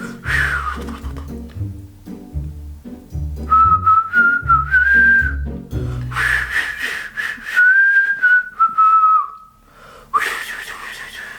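A melodic whistled tune with sliding pitches, played over a steady rhythmic backing track, loud and close.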